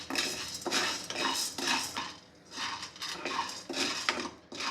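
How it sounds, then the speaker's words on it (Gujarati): Half a bowl of sago pearls dry roasting in a pan for a Gujarati fasting thali, giving repeated rustling, scraping strokes of a spoon against the pan in a steady rhythm, close and alone without talk. "મેં અહીંયા એક અડધી વાડકી સાબુદાણા લીધા છે અને એક વાડકી મોરૈયો લીધો છે આને આપણે શેકી લઈશું"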